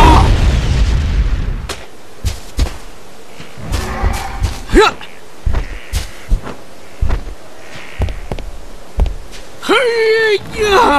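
Exploding trap balls burst in the Kung Fu Panda video game, a heavy boom followed by a string of shorter thumping blasts and pops, with game voices and effects mixed in.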